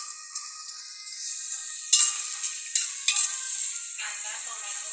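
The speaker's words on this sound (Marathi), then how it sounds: "कांदा, टोमॅटो, हिरवी मिरची आणि आलं लसूण पेस्ट आणि त्याच्याबरोबर टोमॅटो बारीक परतून घेऊया." Onion, tomato, green chili and ginger-garlic paste sizzle steadily in a pan for a mixed vegetable pulao, with a few sharper stirring scrapes and clinks rising above the continuous hiss.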